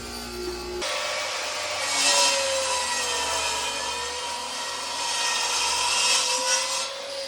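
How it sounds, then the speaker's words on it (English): A table saw fitted with a dado blade cuts tenons in wood, one loud, steady whining grind held for several seconds with slight swells in pitch and strength, close by and alone. "I'm cutting my tenons with a dado on my table saw."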